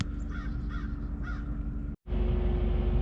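Crows caw three times in a slow series on a clear, quiet day at a boat anchorage, their calls fairly distant over a steady low engine-like hum, followed by a brief dropout and louder rumble.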